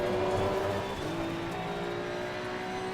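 A Maserati race car in a GT2 racing video game holds a steady, continuous engine drone with a tonal whine throughout, loud and close, with no talk over it.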